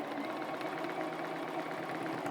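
A sewing machine quilting a Solar Flares block runs at a steady, fast mechanical hum with a rapid needle chatter, close and continuous.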